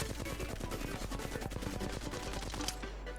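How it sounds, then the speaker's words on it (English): Flatline rifle in Apex Legends emptying a full magazine into a wall, a dense, loud, rapid stream of automatic shots running without pause for the whole stretch. "go ahead and basically fire the clip into the wall"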